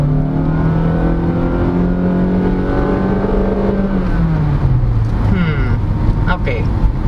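A 2023 Honda BR-V V with no paddle shifters accelerates, its engine drone climbing steadily and then dropping in pitch near the end, while people talk over the cabin noise.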